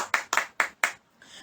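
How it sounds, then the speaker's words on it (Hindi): A church congregation claps for the Lord at a live prayer meeting, four quick loud hand claps in a burst and then a faint trailing murmur, with no speech. "ताली बजाएंगे प्रभु के लिए"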